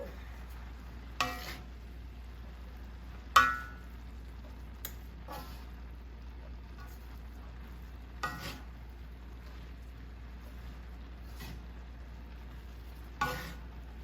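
Egg roll filling sizzles quietly in a pan as Chinese five-spice is stirred in. Occasional sharp scrapes and taps of the utensil stand out over a faint low hum.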